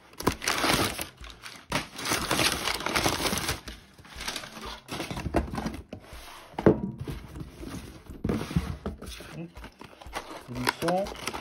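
Cardboard packaging for a Nespresso Vertuo Next coffee machine handled during unboxing: close crinkling, rustling and thumping in irregular bursts, with a person talking over parts of it.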